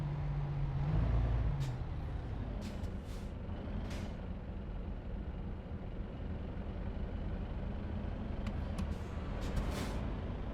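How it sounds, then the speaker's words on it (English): In Euro Truck Simulator 2, the truck's air handbrake is set with a brief burst of air near the start. A steady engine rumble continues underneath, with a few faint clicks later. "Put the handbrake on."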